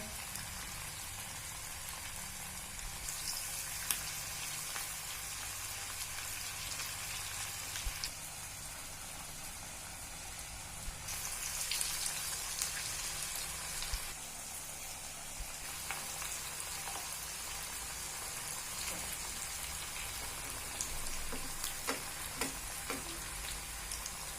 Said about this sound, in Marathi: आणि नंतर शॅलो फ्राय करायचं तेल एकदा तापवून घेतल्यावरती गॅस बारीक करायचा आहे